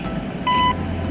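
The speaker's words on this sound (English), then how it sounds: "Record name after beep." A single clean electronic beep from smart vision glasses for the blind, prompting name recording, brief and steady, over a low background hum.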